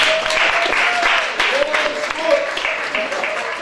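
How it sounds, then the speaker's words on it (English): An audience at a student union election hustings breaks into steady, sustained applause, a dense wash of many hands clapping together with no lull across the whole stretch. "I think he deserves a round of applause too."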